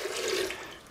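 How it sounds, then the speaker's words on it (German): Cold water rushing steadily into a kitchen mixer bowl for bread dough, a brief continuous splashing pour, close and fairly loud with no talk. "Ich brauche dazu 700 Gramm kaltes Wasser."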